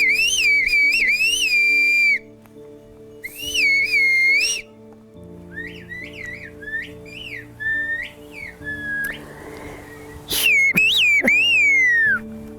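Whistled language carrying messages between people, sharp piercing whistles in rising and falling phrases, some long held tones and quick chirps, loud and clear with pauses between exchanges over a faint hum.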